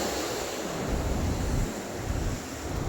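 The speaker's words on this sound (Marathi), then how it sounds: "ह्या पाण्याचा जो प्रवाह आहे तुफान असं पाणी हे तुम्हाला वाहताना दिसते" A torrent of water rushes from the open gates of the Terna dam, a steady low roar of heavy flow swelling and easing slightly, heard alone without talk.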